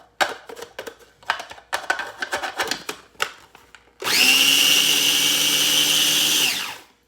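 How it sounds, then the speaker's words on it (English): Small food processor blending sugar for lavender shortbread cookies, a loud steady motor whir lasting a few seconds, preceded by clicks and rattling handling sounds. "If you have a little food processor, and right away it will start to, just to kind of blend it in there together."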